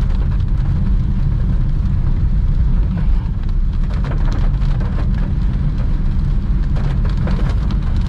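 Heavy morning rain drums on a moving manual car, a loud continuous hiss and patter over low road rumble throughout, with no talking.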